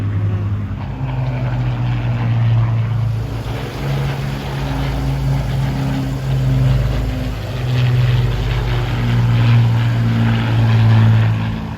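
A propeller bomber flies past at an airshow, its piston engines giving a loud, steady, throbbing low drone that swells and eases as it banks, heard from the ground without talk.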